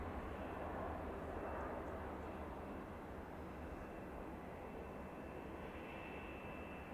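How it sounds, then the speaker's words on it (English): An IndiGo Boeing 787-9 Dreamliner arriving from Delhi at snowy Manchester Airport produces a steady, distant jet engine rumble that stays even for several seconds with no voices. "It's a 7879 Dreamliner from Delhi, Indigo Airlines."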